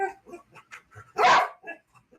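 A dog lets out one loud, harsh bark or yelp that stands out from faint, scattered background sounds, with a few softer noises before and after it.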